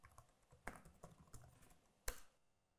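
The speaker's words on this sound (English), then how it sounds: "to update, just type omd update followed by the site name" A command being typed on a computer keyboard, heard as quiet, close, irregular key clicks with a sharper keystroke near the end, likely the enter key, then silence.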